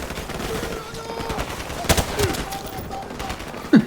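Gunfire in the video game Call of Duty 4, with scattered sharp shots and a few bursts over game ambience, including a louder crack midway and another near the end.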